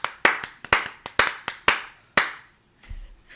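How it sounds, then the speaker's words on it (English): Sparse, sharp hand claps from a small group, about a dozen distinct claps in a loose uneven rhythm, close and crisp, fading out before a faint low rumble. "Round of applause for Jennifer Coolidge."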